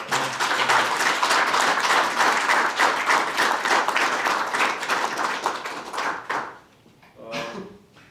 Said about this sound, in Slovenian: Jaz mislim, da si zaslužil najprej en krasen aplavz.